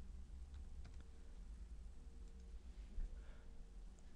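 A few soft key taps on a computer keyboard as a number is entered, quiet and close, over a steady low hum of room noise.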